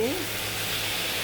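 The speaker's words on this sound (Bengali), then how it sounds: "মশলাটা সামান্য জল দিয়ে কষিয়ে নিচ্ছি" Spice paste sautéing with a little water in a pan for Bengali alur dam, a steady broadband hiss and sizzle with a brief faint voice-like tone at the start.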